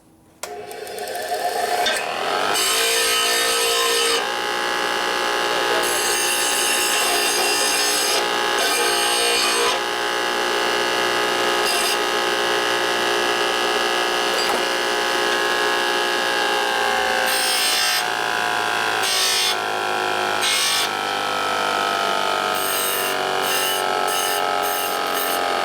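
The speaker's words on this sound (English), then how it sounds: "Go over and grind it." Harsh, continuous grinding of a 1992 Harley-Davidson 80ci Evo engine's metal case, loud and close, with the pitch shifting as the tool bites and eases, lasting throughout without a break.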